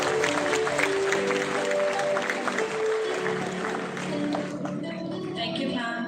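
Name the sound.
audience applause at graduation ceremony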